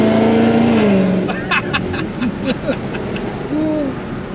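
A cammed Dodge Demon 170 V8 idles with a loud, lopey, uneven rumble, with short rising revs and blips over a continuous engine drone outdoors.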